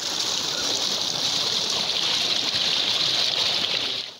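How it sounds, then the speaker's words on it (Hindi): Irrigation water runs steadily into a crop field in a village, a loud, even, hissing rush of flowing water close by that continues without pause and then cuts off abruptly. "फसल को लग रहा है पानी"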